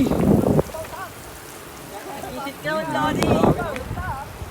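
Steady broadband patter of rain, heavier at the start and again briefly later, with a person talking over it in between.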